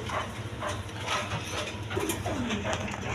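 Pair of pigeons cooing in a busy pigeon market, soft repeated coos over background noise and faint other birds.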